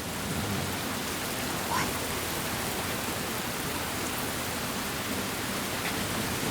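Heavy rain falls as a steady, dense hiss of drops hitting surfaces. It stays at an even, moderately loud level throughout with no pauses.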